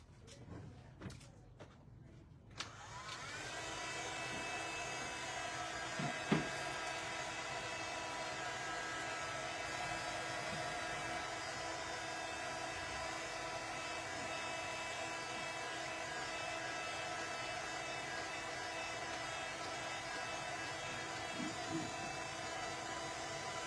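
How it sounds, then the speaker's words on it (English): A heat gun blasts hot air onto fresh paint to dry it, a steady, loud broadband roar with a faint whine that switches on after a brief clatter and runs on without a break. "I'm going to give that a blast with my heat gun."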